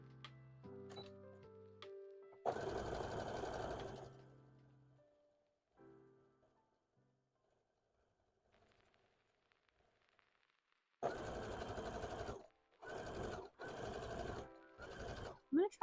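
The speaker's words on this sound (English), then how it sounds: "I think I'm just gonna just sew some lines" Sewing machine stitching lines: short bursts of close whirring, one long run early, then three quick runs near the end, with quiet gaps and brief talk between.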